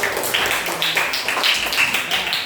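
Audience applause at an Indonesian teacher-training exam session (UKIN PPG) welcoming the next group, a steady patter of claps sustained throughout at moderate loudness, with some hand taps standing out.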